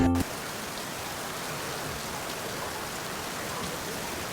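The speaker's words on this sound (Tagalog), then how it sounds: "Kaya din ako nagising dahil sa ulan siyang gumising sa akin." Steady rain falls in a continuous dense hiss, even and unbroken, after a brief sound at the very start.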